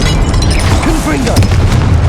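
A Confringo spell explosion in the video game Hogwarts Legacy, a loud booming blast amid dense game sound, with a voice over it.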